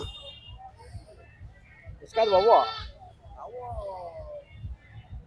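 A calf at a cattle fair gives one loud, wavering bleating call midway, followed by a shorter fainter call, against a background of steady low rumble and intermittent thumps.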